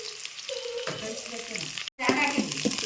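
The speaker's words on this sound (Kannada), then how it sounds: "ಉಳ್ಳಾಗಡ್ಡಿ ಮೆಣಸಿನ್ಕಾಯಿ ಎಲ್ಲ ಹಾಕಿ ಸ್ವಲ್ಪ ಫ್ರೈ ಮಾಡ್ಕೊತೀನಿ" Dried red chillies and onion frying in hot oil with crackling mustard seeds, a steady close sizzle with stirring scrapes and a brief dropout near the end before the frying resumes louder.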